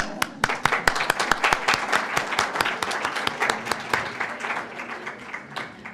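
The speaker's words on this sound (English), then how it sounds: "another round of applause" Audience applause at a school ceremony event, a dense spread of individual claps from a sizable crowd, steady and fairly close, gradually thinning toward the end with no talk over it.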